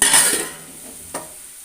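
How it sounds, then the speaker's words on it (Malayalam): Onions and masala sauté in oil left from frying prawns, giving a soft sizzle with a light scrape of a spoon in the pan. "ഇനി നന്നായിട്ടൊന്ന് വഴറ്റിയെടുക്കാം നമ്മൾ ആ മീൻ ചെമ്മീൻ വറുത്ത എണ്ണയിൽ തന്നെയാണ് നമ്മൾ മസാല ഉണ്ടാക്കുന്നത്"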